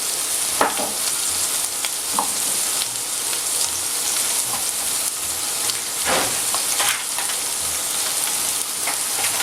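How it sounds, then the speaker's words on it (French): Carrots fry with sugar for glazed carrots, producing a steady, close sizzle with a few louder crackling bursts and stirring clatters over about nine seconds. No talking is heard. "J'ai mis un peu de sucre. Nous allons faire des carottes glacées."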